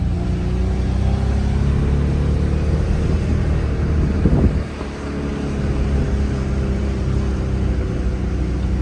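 A car's engine pulling hard while driving, after its oil was changed with dish soap, struggling to shift: a loud steady drone with wind buffeting, a sharp dip near the middle as it changes gear, then climbing again.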